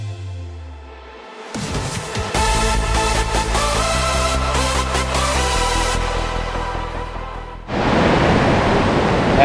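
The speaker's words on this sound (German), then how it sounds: "Also da ist der Wasserfall, das sieht dann schon besser aus." The Mae Sa waterfall near Chiang Mai, Thailand, gives a broad, steady rush of falling water that swells loudest in the final seconds, after other tonal sounds.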